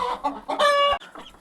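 Hens cluck close by in short bursts around a brooding coop, with one sustained, louder squawk in the middle before the clucking resumes.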